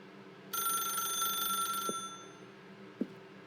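A telephone in The Stanley Parable video game rings with a bright electronic trill for about a second and a half, then falls silent apart from a faint low hum and a couple of soft clicks.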